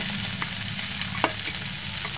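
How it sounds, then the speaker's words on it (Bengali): Pabda fish frying in a pan of oil, a steady sizzle with a low hum underneath and a couple of brief clinks from a utensil, close by and without talk. "আমি বাকি মাছগুলো ভেজে নেব।"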